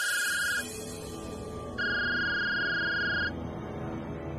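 A telephone rings in a Punjabi TV drama scene, two bright electronic rings of about half a second and one and a half seconds, with a pause between them, heard clearly over a quiet background.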